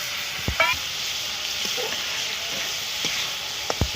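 Ground spice masala of coriander and cumin powder sizzles in a pan with a little water, cooking for a fish curry with fried lentil dumplings; a steady hiss runs throughout with a few soft clicks and scrapes of a spoon.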